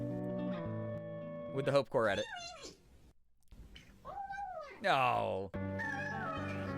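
Cat making squeaky, rising 'wee wee wee' meows in an internet animation clip, several high pitched calls set against a tonal musical backdrop, with a person speaking briefly over it.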